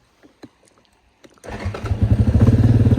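An engine with a weak fuel pump sputters to life after a few faint knocks, then settles into a loud, steady, slightly uneven idle rumble close by.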